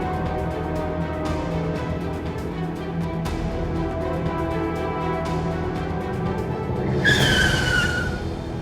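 A car skids hard on pavement, a loud tire squeal rising near the end over a steady engine and traffic rumble, as it nearly crashes on a street.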